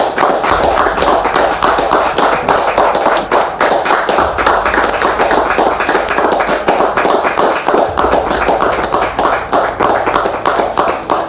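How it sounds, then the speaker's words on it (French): A studio audience applauds a guest arriving on a French talk show, loud sustained clapping with a dense, rapid patter of many hands and no speech over it. "Merci de la recevoir sous vos applaudissements"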